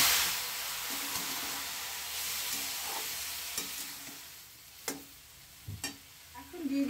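Water splashes into ginger and coriander-cumin spice paste frying in a pan, setting off a strong close sizzle that settles down, with a few sharp utensil taps and scrapes later.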